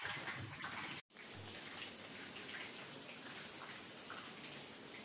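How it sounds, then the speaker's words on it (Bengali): Steady rain falls outside at noon, a dense, continuous wash of drops and splashes heard fairly close, broken only by a momentary cut near the start. "বাইরে তো বৃষ্টি হচ্ছে ভালো রকমের।"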